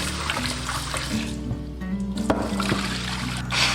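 Salted pork rinsed under warm running water, a close trickle and splash of liquid with light handling noises, fairly loud and continuous, no speech.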